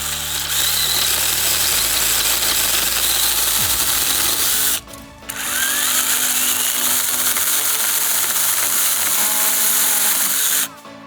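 DINSHARE JC-6001 20V electric mini chainsaw cutting wood, a loud continuous motor whine shifting in pitch as the chain bites, with two brief dips where the cut pauses.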